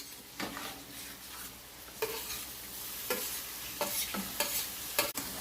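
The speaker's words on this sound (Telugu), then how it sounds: "లివర్ ముక్కలన్నీ కూడా కళాయిలో వేసుకుని వేయించుకోవాలి" Chicken liver pieces frying in a kadai, with a continuous close sizzle and repeated spoon stirs and scrapes against the pan. A sharper clink comes near the end, and no one speaks.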